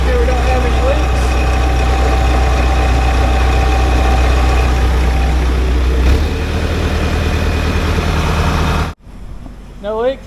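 A John Deere dozer engine, freshly repaired, idles steadily with a deep, low rumble close by for several seconds before cutting off abruptly, followed by a faint brief sound.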